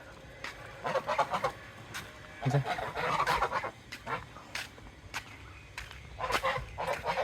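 White domestic ducks quack in bursts of rapid, nasal calls near a person who speaks between them, the quacks fairly close and irregular throughout.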